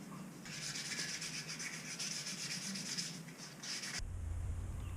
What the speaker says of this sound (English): I've now sanded all the insides of the rim here and also the tops of the spokes